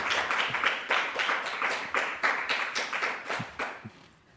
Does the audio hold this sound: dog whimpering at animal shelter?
no